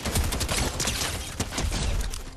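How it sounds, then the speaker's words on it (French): Gunfire in a Fortnite Battle Royale match, a loud dense burst of rapid shots filling the whole moment with no pauses and no talk. "Ah, on se tire dessus."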